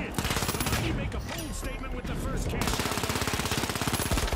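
Rapid automatic M11 gunfire in The Finals rattles in fast, evenly spaced shots, loud and close, with a brief break before a steady burst resumes, while a voice talks over it.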